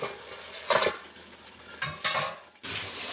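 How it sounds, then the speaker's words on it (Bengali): A metal lid clanks onto a cooking pot of chicken with fried potatoes and Malabar spinach stems; several sharp metallic knocks and scrapes separated by quiet pauses, close by. "আমি আর একটু ঢাকা দিয়ে দিচ্ছি।"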